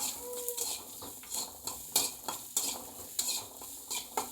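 Small onions sauté on a low flame in a pan, with a quiet sizzle under repeated rhythmic spoon strokes scraping the metal, close and fairly steady.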